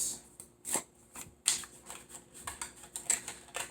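Stiff tarot cards shuffled close to the mic, a rapid run of soft flicks and riffles with a few sharper snaps, quiet and with no voice.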